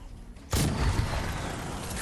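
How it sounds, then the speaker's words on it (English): Explosion in the video game Fortnite: a sudden loud blast bursts in after quiet, then a dense roaring rumble sustains to the end. "No, that explosion."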